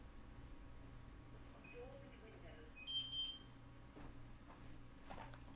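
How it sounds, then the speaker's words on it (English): Smoke alarm beeping indoors at a distance, a few faint high electronic chirps over a low steady background hum, no clear talk at that moment. "I don't know why my alarm is beeping."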